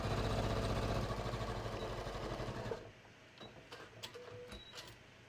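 A sewing machine runs steadily at close range, stitching denim jeans pocket pieces together at a short stitch length, then stops partway through, leaving faint handling clicks and rustles.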